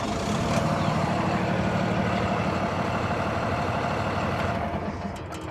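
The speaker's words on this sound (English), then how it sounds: "And then go ahead and start the truck." A 2023 Freightliner M2 106 Summit Hauler truck engine rumbles loudly and steadily at idle nearby, a dense low diesel drone holding even before easing slightly at the end.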